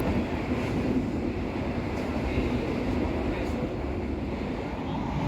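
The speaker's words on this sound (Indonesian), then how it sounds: "Kecepatan kereta api Gaya Baru Malam Selatan stabil di sekitar 95 km per jam nih kawan" Steady rumble and rush inside an economy car of the Gaya Baru Malam Selatan train running at speed between Solo and Jakarta, a continuous close droning wash with no pauses.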